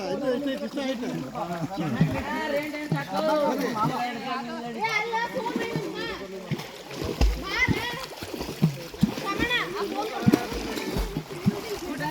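Water splashes repeatedly in a pool at a resort in Dandeli, with children shouting and playing and voices talking close by throughout.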